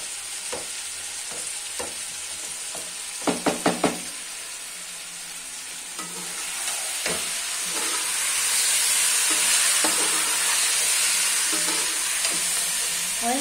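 Rice with fenugreek is fried and stirred in a pan in a village kitchen, giving a few sharp scraping strokes early on and then a steady sizzle that swells and holds near the microphone.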